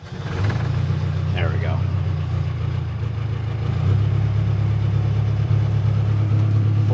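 A 4BT diesel engine on a used 2004 excavator, heard up close on a chilly day, holds a steady low rumbling idle, then steps up to a higher, louder drone as the throttle opens; someone speaks briefly over it.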